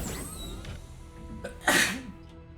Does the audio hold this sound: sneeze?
yes